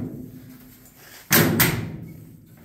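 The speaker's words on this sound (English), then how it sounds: "Door opens and closes, doesn't rub anywhere." A car door on a vehicle with newly sectioned bodywork swings and shuts in a custom shop, two loud close thumps in quick succession breaking a quiet background, with no talking.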